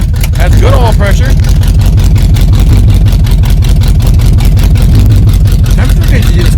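A 1978 Chevy K10 pickup truck, started after sitting 27 years, runs loud and close with a dense rhythmic engine chug that swells slightly when revved, while someone talks over it.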